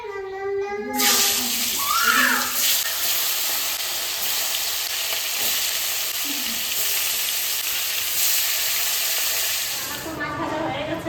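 Fresh pond fish drop into hot oil and burst into a loud, close sizzle that stays dense and even for several seconds, then softens near the end.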